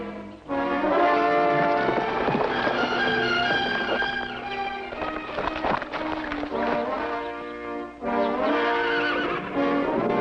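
Horses whinny loudly and repeatedly, long shrill neighs overlapping one another up close, with a faint clatter of movement underneath and a brief pause near the end.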